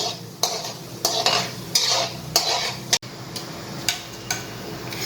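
Poppy seeds and sesame seeds crackle in hot oil while a spoon stirs them in a pan, with regular scraping taps about every half second over a continuous sizzle.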